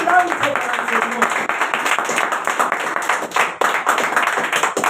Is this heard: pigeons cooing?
no